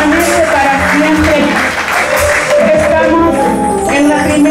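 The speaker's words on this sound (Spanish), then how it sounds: "¿Por qué no dar una ofrenda de palmas al que vive y permanece para siempre?" Congregation clapping at a Spanish-language evangelical church service during an anniversary campaign night, a dense, steady applause mixed with cheering voices and music, loud and continuous throughout.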